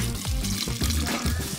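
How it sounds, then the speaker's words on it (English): Water poured from a dye bottle's open neck as tie-dye colors are mixed, a close gurgling, splashing trickle with uneven glugs over a brief stretch. "pour the water into the bottle"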